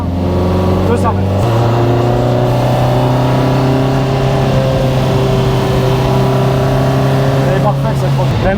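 A Lotus Exige S1 sports car cruises at a modest pace along a country road, its engine a steady loud drone with a slight shift in pitch early on, while people talk over it.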